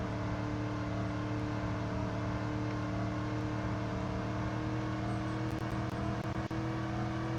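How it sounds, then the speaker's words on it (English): A Ram 3500 Dually truck in a driving video game holds a steady engine drone with a dense harmonic hum, a constant cruising tone with faint high clicks late on. "the third car, which I'm super excited about, is the Ram 3500 Dually, which drives so well"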